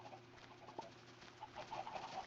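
Minecraft chickens cluck softly in a farm pen, several short faint clucks scattered over a quiet game background with no talk.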